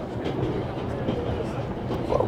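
A train rolls steadily along the rails, a continuous low rumble with faint rattling, close and even in level throughout the short stretch.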